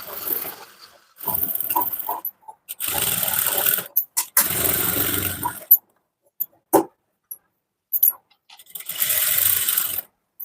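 A sewing machine stitches down the lining of a halter collar-neck blouse, running in several separate bursts of rapid whirring, close and fairly loud, with quiet pauses and small clicks between runs.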